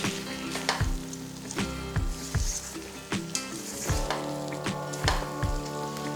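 Chicken rica-rica sizzles and fries in a pan while being stirred, with a steady crackling hiss and repeated soft scraping strokes of the utensil, close and alone without talk.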